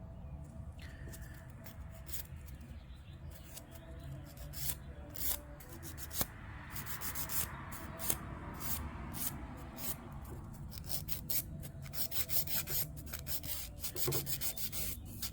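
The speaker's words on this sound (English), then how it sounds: "I'm just doing my filing." A nail file scrapes across fingernails coated in builder gel, making soft, repeated rasping strokes at close range, fairly quiet and continuous with occasional sharper taps.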